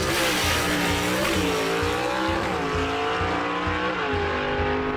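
Drag race car running hard down the strip, a loud continuous engine roar with shifting pitch and a few gear-change dips, close and unbroken throughout.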